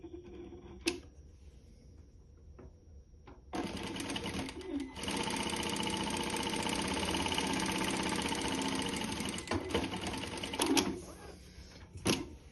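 A Prosew PS-D9 light duty straight stitch industrial sewing machine stitching, starting with a few brief clicks, then a steady fast mechanical whir for several seconds before stopping and giving a short final burst.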